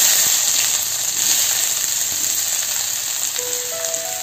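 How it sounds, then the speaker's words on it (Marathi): Onion frying in oil makes a bright, constant sizzle close by, with faint scraping and stirring clicks underneath and no talking. "कांदा छान परतून घेतला आहे।"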